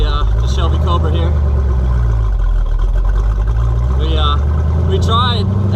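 A loud Factory Five Shelby Cobra replica engine drones steadily while driving, its low rumble continuous throughout, with people talking over the noise.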